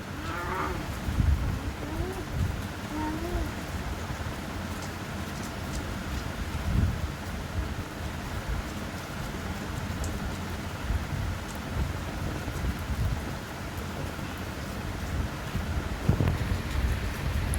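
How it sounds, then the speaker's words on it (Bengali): Steady rain falls with low rumbles of thunder, a dense continuous hiss with occasional deep rolls, while a cow moos clearly in the first few seconds and again faintly later. "এই যে বৃষ্টি পড়ছে বসে বসে দেখছে"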